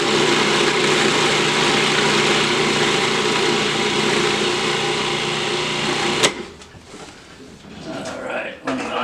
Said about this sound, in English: I'm going to combine everything into the food processor, and we're going to mince it up